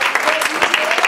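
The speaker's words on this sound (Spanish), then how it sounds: "Den un aplauso a Cristo Jesús" Church congregation clapping for Christ during a service, a brief burst of dense, close applause from many hands, with a voice faintly mixed in.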